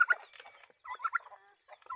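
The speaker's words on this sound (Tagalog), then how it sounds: "ito naman yung ating pabo" Turkeys gobble in quick, rattling bursts, loud and close in a backyard farm flock. Each burst is separated by short pauses.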